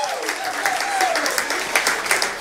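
A studio audience at a college football coach's show applauds for a guest, athletic director Jim Sterk, with steady, dense clapping throughout and a voice speaking over it.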